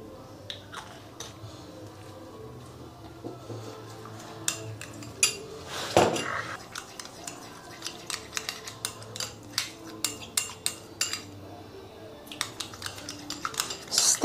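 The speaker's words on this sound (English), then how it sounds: "So stir very well, stir very well, give it a nice stir" Homemade vitamin C skin cream with lightening powders being stirred in a bowl, steady scraping and irregular sharp clinks of a utensil against the bowl, close and continuous with no voices.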